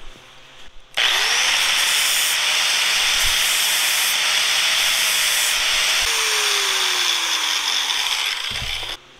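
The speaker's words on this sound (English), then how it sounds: "I'm gonna hit it with this buffing wheel and try not to scuff up my nice pretty part" Buffing wheel polishing a machined irrigation valve part: a loud, sustained whirring hiss starts abruptly, holds steady with a whine that drops in pitch as the part is pressed against it, then cuts off.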